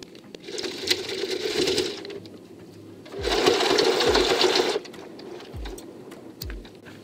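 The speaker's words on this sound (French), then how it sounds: "on va simplement fixer à l'aide d'une épingle et coudre sur les bords à 1 cm de chaque côté" A sewing machine stitching the edges of a fabric face mask, 1 cm from each side, in two loud continuous runs of rapid mechanical whirring separated by quieter pauses with a few soft clicks.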